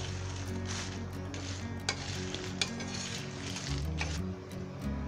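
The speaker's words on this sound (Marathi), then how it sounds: "आता मिरची अशी चांगली भाजली एक मी." Green chilies roast on a hot tawa for a black sesame thecha, giving a low continuous crackle and sizzle with faint stirring scrapes and a few sharp ticks, close and steady.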